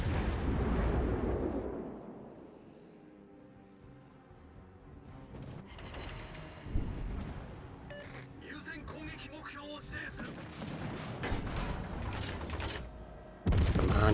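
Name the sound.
warship guns firing, from the video game World of Warships Legends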